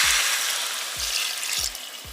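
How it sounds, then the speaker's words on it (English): Red wine hits a hot pot of cooked-down tomato paste, giving a loud steady sizzle and hiss with a few faint low knocks spaced through it. "With the tomato paste cooked down some, we're now gonna add in 2 cups of your preferred red wine"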